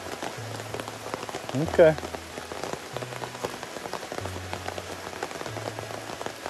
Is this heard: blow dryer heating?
no